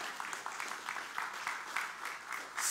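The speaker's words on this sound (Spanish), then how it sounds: "Así que denle un aplauso al Señor, hermano" Faint, distant applause from a church congregation during a sermon, a soft patter of clapping that runs steadily through the whole stretch and swells slightly at the end.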